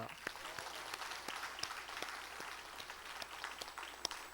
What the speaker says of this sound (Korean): 우리 감사와 격려의 박수